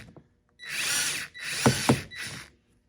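Three short bursts of a HYCHIKA battery-powered screwdriver whirring close by, its motor spinning as it loosens a screw, separated by brief pauses.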